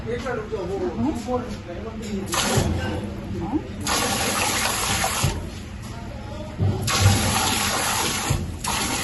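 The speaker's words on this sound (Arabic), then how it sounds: "الجزر طبعا بيغسلوا بينقعوه شويه" Carrots are rinsed under a steadily running tap, with continuous splashing and gushing water while a voice talks over it.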